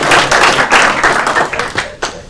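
Brief scattered clapping from a small audience at an INSEAD Geneva talk, loud and close, thinning out into a few final claps.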